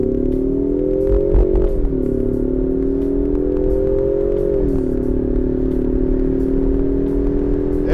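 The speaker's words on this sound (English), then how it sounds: "I'm in drag mode, foot on the brake, hit the gas" A 2021 Ford Mustang EcoBoost convertible launches hard in drag mode, its turbo four-cylinder droning loudly and steadily while the pitch climbs and drops between gear shifts, with wind and road noise around the cabin.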